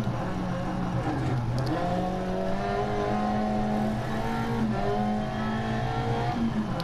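A rally car engine in DiRT Rally 2.0 climbs through the gears on a flat-out run, each loud, steady rising note dropping back as the next gear engages, several upshifts in a row with a faint voice in the background.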